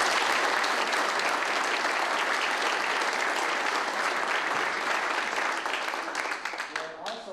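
A hall full of people applauds the brethren at a building dedication, with dense steady clapping that holds strong and then starts to thin out near the end.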